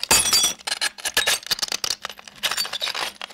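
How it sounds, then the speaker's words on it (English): Glass shards break and are ground against another piece of glass, producing bright crunching clinks and scraping bursts in uneven close bursts, a layered effect for a tower in The Lord of the Rings. "got some glass bits and wound up breaking those"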